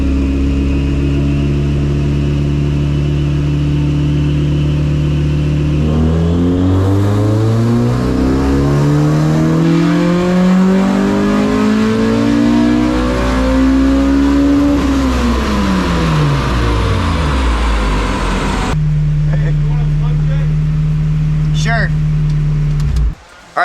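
A built Honda Civic B20 engine on a dyno climbs steadily through the revs to the limiter, a loud rising engine note that drops back down, then settles into an idle before a short burst at the end.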